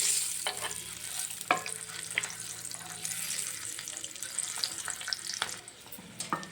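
Boiled eggs fry with a pinch of turmeric in a pan, giving a steady close sizzle with intermittent scraping and stirring clicks of a spatula.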